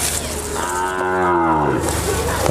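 A young Sahiwal-Brahman bull calf lets out one long, loud moo close by, lasting over a second, with nothing else around it.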